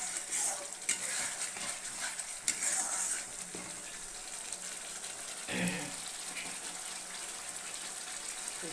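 Crab masala with spices sautéing in oil in a pan, a quiet steady sizzle with occasional stirring scrapes and clinks, fairly faint and close.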